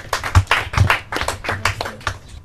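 Audience at a Portuguese-language quiz final clapping in a short burst of uneven, distinct hand claps, close and moderately loud, fading after a couple of seconds.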